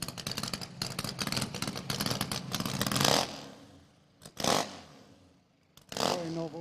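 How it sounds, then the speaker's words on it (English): Dense, loud engine roar from a BSA motorcycle on a drag strip fills the first three seconds, then fades away. Two shorter, distant bursts of engine noise follow, each rising and falling, with no talk. "So a solo run for Tim on the BSA."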